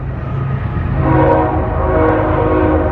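A train rolls past in a fading Texas Panhandle town, loud and close, its horn sounding in a sustained blaring tone over the low rumble of the cars.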